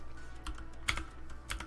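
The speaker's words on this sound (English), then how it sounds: "Extreme typing going on." Fingers tap on a computer keyboard in quick, uneven bursts of light clicks, fairly close but quiet, with no talking.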